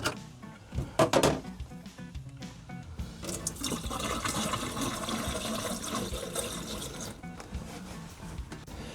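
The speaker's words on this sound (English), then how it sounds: "So each trap is just gonna get some antifreeze poured into them." Pink antifreeze poured from a jug into the drain traps of an RV sink while winterizing, a steady splashing gurgle close by that runs for several seconds after a few clunks.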